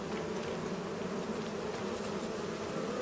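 Bees buzzing steadily at a bee farm in Farming Simulator 25, a continuous dense hum with no voices over it.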